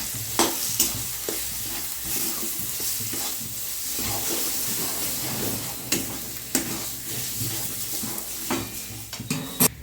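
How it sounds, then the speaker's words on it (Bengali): Ground chana dal paste with turmeric is stirred in a sizzling pan, a spoon scraping and tapping against the metal in irregular strokes over a steady soft frying hiss, close and fairly quiet. "নাড়িয়ে নেবো।"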